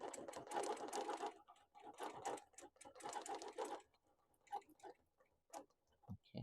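A sewing machine free-motion quilting words runs in short bursts of rapid stitching, stopping and starting between letters, close and moderately loud with brief pauses.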